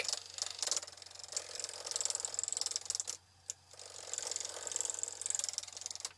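A bowl gouge roughs out a wooden bowl blank spinning on a lathe, giving a bright, rapid chattering scrape in quick bursts, with a brief pause partway through and a low motor hum underneath.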